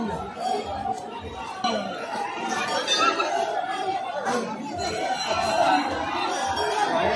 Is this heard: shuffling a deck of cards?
no